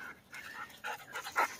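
A female wirehaired pointing griffon, about one year old, pants close by in quick uneven breaths with a few stronger puffs near the end, and no voices are present.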